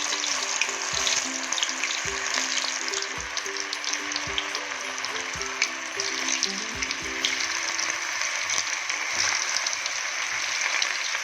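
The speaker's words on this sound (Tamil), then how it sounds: "இப்போ நம்ம எண்ணெயில் போட்டு பொரிச்சு எடுத்துடலாம்" Batter-coated cauliflower pieces deep-fry in hot oil for street-style cauliflower chilli, a dense, loud, continuous bubbling crackle with faint low thumps and knocks beneath it.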